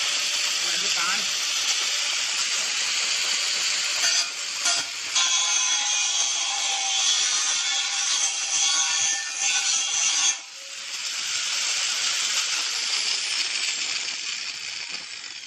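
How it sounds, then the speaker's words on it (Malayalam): Handheld angle grinder cutting, a loud continuous high-pitched whine close by for about ten seconds, a brief dip in load, then the spinning disc whirring on and slowly winding down. "ഗ്രൈൻഡർ പിടിച്ചുകൊണ്ട് തന്നെ നമ്മൾ കട്ട് ചെയ്യണം."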